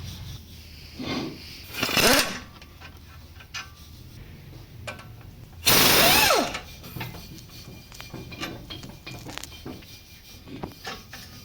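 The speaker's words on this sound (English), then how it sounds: "Now we're gonna take off the caliper bracket." Power ratchet loosening the caliper bracket bolts on a Ford Transit 350HD, two loud whirring bursts of a few seconds each, with small mechanical clicks and knocks in between.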